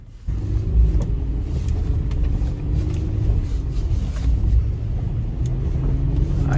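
VW Touareg SUV climbing a clay hill off-road, its engine rumbling loud and steady at close range, with no talk.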